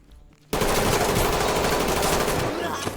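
A sustained burst of loud gunfire in the tactical shooter game Ready or Not starts abruptly after a short quiet lead-in and continues dense and harsh to the end.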